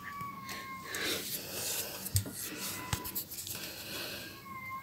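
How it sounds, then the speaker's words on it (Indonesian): A stray tomcat meows nearby in short drawn-out calls at the start and end, amid a few scratchy rustles and soft knocks in a quiet room. "Ya ampun, itu kucing garong lagi"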